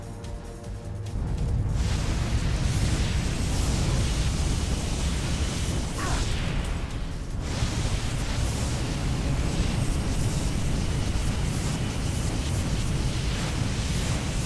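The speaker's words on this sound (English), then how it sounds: "Did that fire roar as it died?" A fire roars in the Firefighter F.D.18 video game, a dense, loud, continuous rushing noise that swells in after a brief quieter opening and holds steady throughout.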